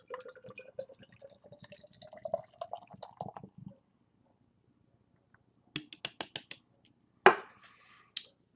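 Lion Stout beer is poured into a glass close up, with quiet splashing, dripping and fizzing in short bursts, a long silent gap, then a few sharper clinks and a final trickle.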